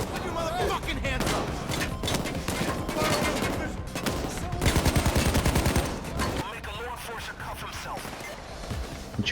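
Rapid gunfire from the Payday 2 video game, bursts of game shots with a dense automatic volley mid-clip, loud and layered over a busy mix of game effects and voices.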